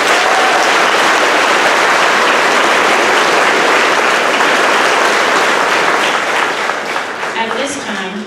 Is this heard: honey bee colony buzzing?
no